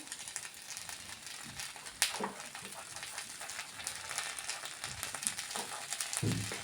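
Pav bread frying in butter on a flat pan, a steady soft sizzle with light crackle throughout, a sharper tick near two seconds and a slight swell at the end.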